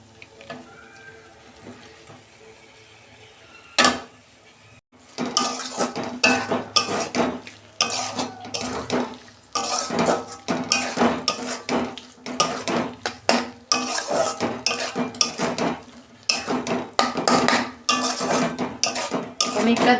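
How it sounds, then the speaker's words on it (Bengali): A spoon clatters and scrapes in a pan as paneer is stirred into spinach, the rapid clinks and stirring strokes coming close and loud in bursts after a quiet start. "এই যে পনিরটা দিয়ে দিচ্ছি।"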